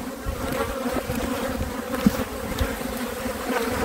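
Honeybees swarm around an open hive being inspected, a steady, dense buzzing close by that rises and falls slightly as agitated bees fly about.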